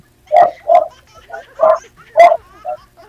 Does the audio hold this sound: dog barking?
yes